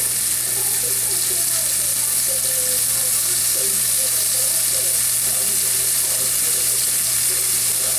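Country style steak frying in a pan gives a steady, close sizzle with a constant hiss throughout and a low hum underneath, with no talking.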